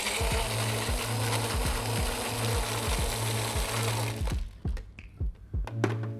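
A milkshake maker blends a Piña Verde cocktail with crushed ice, a loud, steady whirring motor with rattling ice that runs for about four seconds, then cuts off into a few scattered clinks and knocks.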